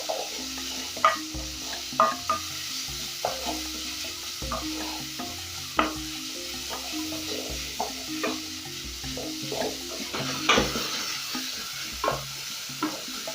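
Carrots cooking in oil in a pan, a low steady sizzle broken by irregular scraping stirs and light clicks of a utensil, moderately quiet and close, no talking.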